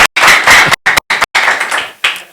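An audience claps at a preacher's talk, producing loud, dense bursts of applause that cut off abruptly into short silent gaps several times.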